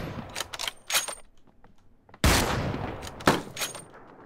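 Gunfire in the online shooter Ring of Elysium: scattered sharp shots early, then a loud burst of rapid fire followed by a few more heavy shots, close and punchy with no voices.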